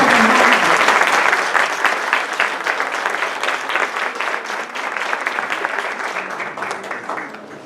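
An audience claps steadily through a formal constitutional forum in Mexico City, the applause loud at first and continuing with a busy, even texture before easing slightly at the close.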